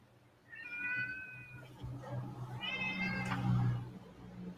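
A neighbour's cat meows in two drawn-out, tonal calls close by, the first near the start and the second a couple of seconds later, over a low background rumble.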